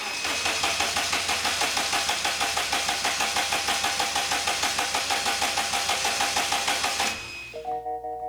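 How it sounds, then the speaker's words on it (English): Daihatsu Mira engine cranking without starting: a fast, rhythmic starter churn repeats steadily for about seven seconds, loud and close, then cuts off, leaving a few faint clicks. "the engine turns over. But crank as we might, it just won't run."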